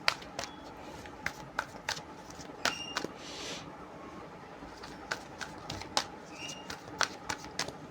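Playing cards being shuffled for a tarot-style marriage reading, a series of sharp riffling snaps and soft flutters repeating irregularly, close and fairly quiet, with no talking.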